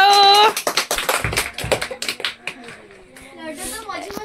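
Children clapping hands in a classroom, a run of sharp irregular claps fairly close by, mixed with kids' voices talking and chattering throughout.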